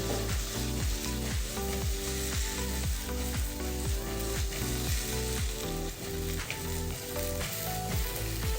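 Okra tempered in hot oil in a pan, mixed by shaking the pan by its two handles rather than stirring with a spoon, sizzles loudly and steadily throughout. A regular rhythmic beat runs underneath, with no talking.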